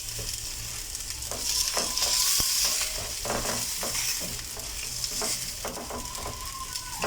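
Steady sizzling of hot dog sausages frying in a pan over medium-low heat, with occasional stirring and scraping sounds over a constant crackle.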